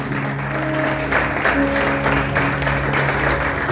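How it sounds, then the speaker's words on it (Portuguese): Church congregation applauding steadily, dense continuous clapping from many hands that is loud and sustained throughout, with a low musical drone underneath. "Palmas para o nosso Senhor e Salvador Jesus Cristo"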